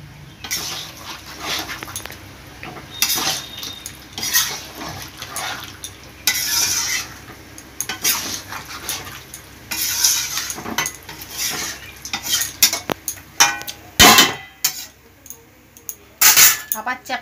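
Chicken cooking in a pot is stirred with a metal spoon, producing repeated scraping clinks and clatters against the pot in irregular bursts, with a louder knock near the end.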